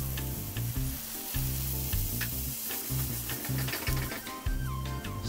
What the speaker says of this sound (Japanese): 次にケッパー浸る程度の水を入れてください。